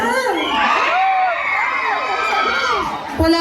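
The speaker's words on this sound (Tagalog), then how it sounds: "Wala po ba ang hiyawan dyan?" A crowd cheers and whoops at a Miss Gay Calasiao pageant in Pangasinan in 2022. Excited voices rise and fall in pitch under a steady roar, with shouts near and far.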